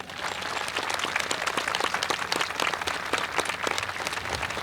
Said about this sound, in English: Yes, we need some time for applause.